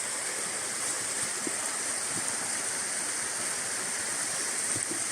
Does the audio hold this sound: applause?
no